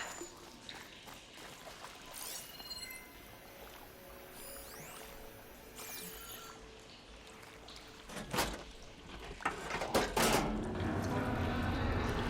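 Water in the Horizon Forbidden West video game switching flow: continuous rushing and trickling water with splashy bursts and knocks toward the end, moderately quiet with no talk.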